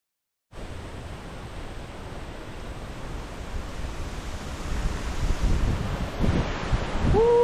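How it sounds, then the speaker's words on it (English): Steady wind blowing hard outdoors, a broad rushing roar that grows louder toward the end, close to the microphone. "Oh, that beautiful wind."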